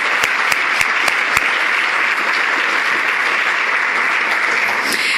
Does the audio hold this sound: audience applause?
yes